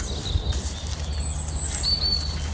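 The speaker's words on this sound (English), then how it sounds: "Listen to that bird song." Thin high chirps and whistled bird calls scattered over a steady outdoor rumble, fairly faint and distant, no voices.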